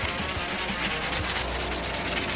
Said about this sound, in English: You got to be careful with that sander because you can, as you can see, it's easy to get down past the paint